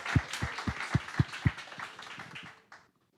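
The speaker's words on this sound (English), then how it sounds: "So let's give a round of applause." A brief burst of audience clapping at an investor day event, about six distinct loud claps in steady rhythm, then fading into quieter scattered claps before silence.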